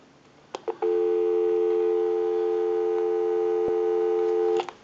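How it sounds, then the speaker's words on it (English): A steady, continuous dial tone from a Western Electric Trimline telephone hums on the line for several seconds, preceded by a couple of brief clicks and ending abruptly. "Go ahead and give you some dial tone."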